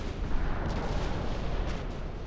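Dull booming impacts of torpedo hits on light cruisers during a naval battle in Ultimate Admiral: Dreadnoughts, heavy rumbling explosions blending into a continuous loud roar.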